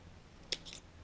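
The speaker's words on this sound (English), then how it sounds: "Then we'll grab our scissors, and I just line them up literally on the side of the deck." A single quick snip of scissors cuts while trimming along the side of a deck, one sharp short click against a quiet background.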